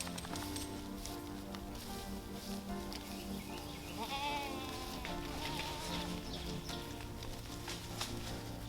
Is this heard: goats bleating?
yes